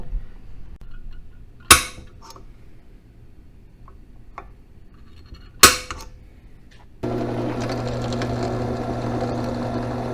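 A part is hammered onto a rattan walking stick with two sharp, isolated knocks several seconds apart over quiet room tone, followed by a sudden steady background drone.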